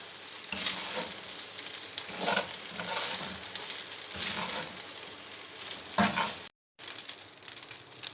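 Chinese chicken being stirred and mixed in a hot pan, a steady sizzling fry with scraping pulses from the spoon every couple of seconds, close and moderately loud, ending with a brief cut to silence.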